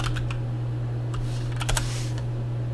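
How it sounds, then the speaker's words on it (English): Irregular light clicks of someone typing on a computer keyboard, faint and sporadic over a steady low electrical hum, with a short quicker burst of keystrokes near the end and no voices. "I'll just type in spermatogenesis."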